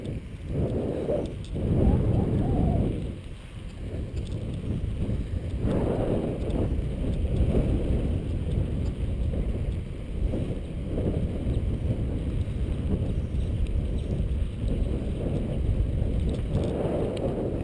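Strong wind at a beach buffeting the microphone in a loud, continuous rumble with gusty swells, steady throughout with no talking.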